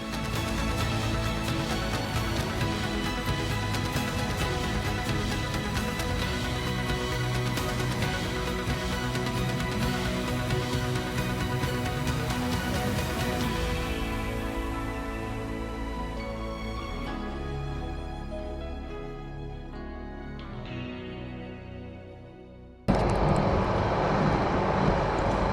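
A Case loader's diesel engine runs steadily while plowing out nearly foot-deep snow, a loud continuous drone that thins out and drops away near the end before a sudden burst of broadband noise returns.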